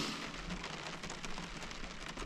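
Steady rain patters on surfaces around a truck campsite, a soft, continuous hiss of drops with no voices.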